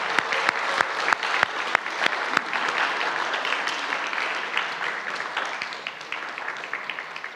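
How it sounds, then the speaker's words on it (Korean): A church congregation claps in welcome during a Sunday worship service, opening with a few loud, distinct claps before swelling into a full, steady round of applause that gradually tapers. "여러분 뜨겁게 우리 환영의 박수를 맞아주십시오"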